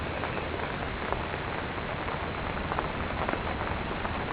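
Steady rain falling on an empty golf course on a morning walk, a constant soft hiss of drops with occasional heavier patters, close and uniform throughout.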